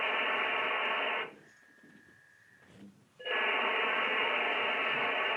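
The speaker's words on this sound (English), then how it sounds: "That's what a V29 modem sounds like." Played recording of a V29 fax modem handshake: a steady, loud band of hiss-like data noise breaks off for about two seconds into a single sustained tone, then the dense modem noise resumes.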